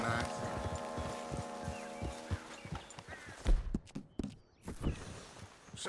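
Horse hooves walking in Red Dead Redemption 2, a steady clip-clop of footsteps beneath a musical game soundtrack, with rustling and a few louder thumps toward the end.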